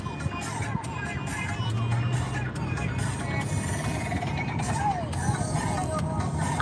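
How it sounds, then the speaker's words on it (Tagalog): Road traffic hums and rumbles steadily on a busy street, with passing vehicles and a faint siren-like tone in the background, while people talk over it. "Oo, Josie, ang traffic."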